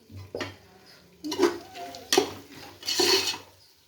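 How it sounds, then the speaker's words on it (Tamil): Tomatoes being sautéed in a pot for mutton biryani: a few distinct bursts of stirring and spoon scraping against the pot, with clinks of metal, spaced irregularly and heard close with no talk. "தக்காளி சேர்த்து தக்காளியை நல்லா வதக்கணும்"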